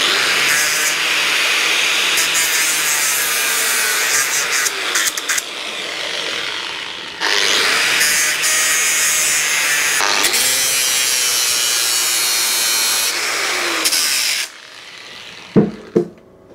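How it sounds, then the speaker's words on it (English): An angle grinder works metal on a motorbike foot rest bracket, whining loudly in long continuous passes with brief pauses between them and a few clanks at the end. "I've got to grind a bit of an angle on that bit for it to slide together."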